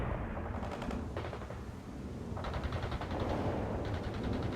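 Bursts of machine-gun and heavy gunfire from the video game World in Conflict: Soviet Assault, several loud clattering volleys rising and dropping back against a rumbling battle background.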